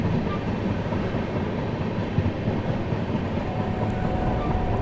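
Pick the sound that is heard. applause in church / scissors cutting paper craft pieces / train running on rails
train running on rails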